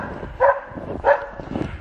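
Two sharp barks from racing sled dogs ring out close by, followed by a softer whimpering yelp, with a low restless background between the calls.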